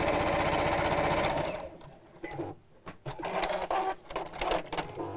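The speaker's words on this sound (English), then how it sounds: "So let's sew the edges of those together." A sewing machine stitches the edges of fabric pieces together for a book cover wrap, running steadily at first, then breaking into shorter bursts and pauses.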